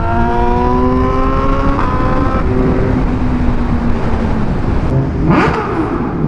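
A BMW S1000RR and a Kawasaki Z900 roar loudly while riding, one engine climbing through revving gears with rising and falling pitch, plus wind rush and a whooshing pass late on.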